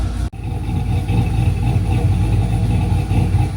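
A car engine idles steadily during idle tuning, set about 50 RPM lower than before. It gives a continuous low rumbling chop close by, with a brief dropout near the start and no talking.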